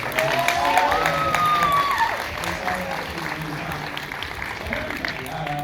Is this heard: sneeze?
no